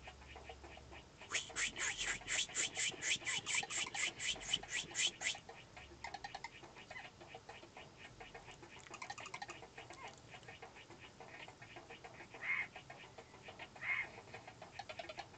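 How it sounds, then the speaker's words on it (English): Rapid repeated clicking chews of a bird eating bananas in The Jungle Book SNES game, a fast rhythmic run up front then sparser smacking sounds, close and fairly quiet. "the sound effect they put on with a bird chewing bananas"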